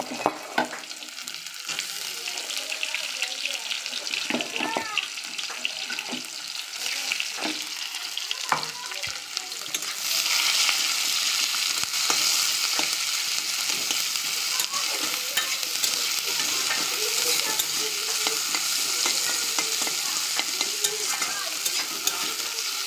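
Chopped onion dropped into a pan with hot oil and whole cumin, a close crackling sizzle that swells louder partway through and carries on steadily, broken by occasional stirring clicks, with no speech.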